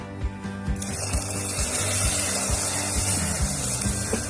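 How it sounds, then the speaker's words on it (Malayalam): Hot tempering of mustard seeds, curry leaves and chilli poured into a pot of papaya and taro curry with green tamarind, bursting into a loud hissing sizzle that runs on with steady pops, no voices. "ഇനി ഇത് ഞാൻ കറിയിലേക്ക് ഒഴിക്കുകയാണ്"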